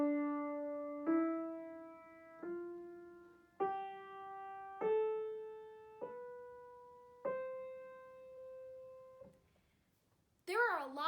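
Eight sustained single notes rise step by step in a steady ascending scale, played clearly and alone on what sounds like a piano or keyboard, followed by a brief burst of a voice at the end.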